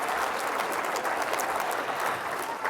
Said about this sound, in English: If we could get one more round of applause for all of our inductees in this first half